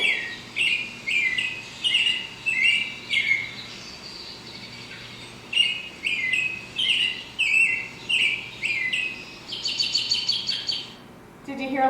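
A robin sings a series of bright, repeated chirping phrases with short pauses between, ending in a rapid, higher chattering run; birdsong fairly close, no talking.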